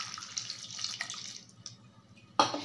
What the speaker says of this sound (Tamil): இப்போ இது மூழ்கிற அளவுக்கு நான் தண்ணி ஊற்றிக்க போகிறேன்.